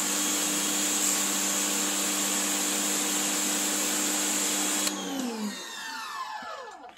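A Stihl RE 90 pressure washer with a rotary nozzle sprays in a loud, steady hissing whine, then cuts off abruptly and the motor winds down.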